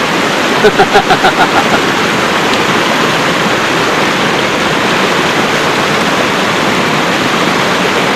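A village stream runs through a valley village in İspir, Erzurum, a loud, continuous rushing wash of water heard close by, with a brief run of rhythmic taps near the start.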